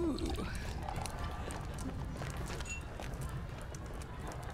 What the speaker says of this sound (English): Pretty horses.